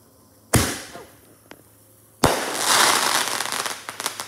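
Independence Day fireworks: two loud, close bursts a couple of seconds apart, the second rolling straight into a long stretch of dense crackling and popping.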